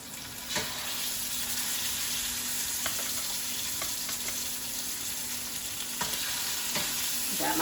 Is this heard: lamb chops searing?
yes